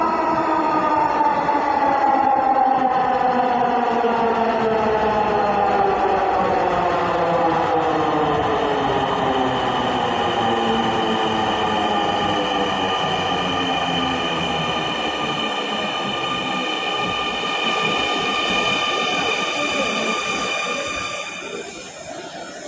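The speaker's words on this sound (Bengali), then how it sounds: "অনেক দূর থেকে দেখতে পাচ্ছি ট্রেনটি অলরেডি চলে এসেছে।" A metro rail train pulls into the station, loud and close, its drawn-out whining tones sliding downward as it slows, over a rumbling rush that fades out at the very end.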